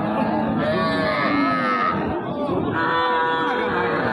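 Cattle at a livestock market, including Sahiwal and small local heifers, mooing loudly and repeatedly in long drawn-out calls that overlap one another close by, with no one speaking over them.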